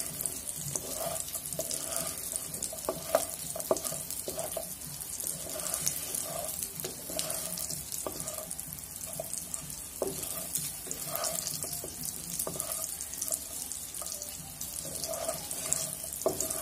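Lentil dumplings (bori) fry in oil over lowered heat, with a soft, continuous sizzle and bubbling that carries on steadily. Occasional light stirring clinks sound under it.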